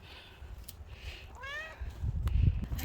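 Cat meowing on a mountain hike outdoors: one clear, drawn-out meow rising and falling in the middle, fairly close, followed by louder rustling and handling noise, with no talk.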